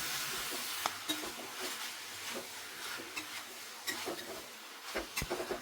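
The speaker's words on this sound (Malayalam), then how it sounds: "ചിക്കൻ ചേർത്തതിന് ശേഷം 5 മിനിറ്റ് ഇതുപോലെ ഒന്ന് മിക്സ് ചെയ്ത് കൊടുത്തുകൊണ്ടേ ഇരിക്കുക." Chicken pieces tossed with turmeric in a pan for a chicken curry give a soft sizzle and hiss under irregular scraping and clicking strokes of a spoon, fairly close and steady.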